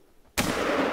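A hunting rifle shot in the game theHunter Call of the Wild cracks out as a single loud, sharp report after near silence, followed by a sustained rumbling echo that carries to the end.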